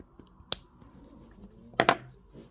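Wire for a Viking-style chain bracelet being cut at an angle with a cutting tool, a sharp single snip followed later by a quick double click, close and crisp against a quiet background.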